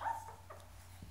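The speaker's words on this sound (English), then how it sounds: "Puppies are all out of the box for the first time." Young puppies just out of their box, a faint, brief high whimper followed by a couple of soft whines against a quiet indoor hum.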